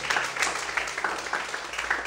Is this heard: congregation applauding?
yes